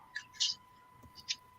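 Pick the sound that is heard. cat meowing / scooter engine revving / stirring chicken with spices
cat meowing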